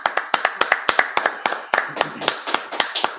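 Hands clap in an uneven series of sharp, separate claps at a church Sabbath service, roughly a dozen distinct strikes over a few seconds, fairly close and not a large crowd.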